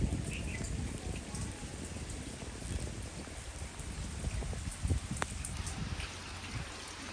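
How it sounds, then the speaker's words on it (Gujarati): Rain falls on open farm fields, a faint, steady patter of drops with scattered louder splashes and a few soft rustles throughout, no speech heard. "અત્યારે જો મસ્ત મજાનો વરસાદ આવે છે."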